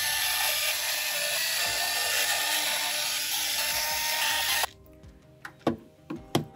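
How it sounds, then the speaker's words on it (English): Electric screwdriver whining steadily while backing screws out of a PS5 Slim console, then stopping, followed by several sharp clicks and taps of screws and parts being handled close by. "And then the shorter marathon of removing all of the screws."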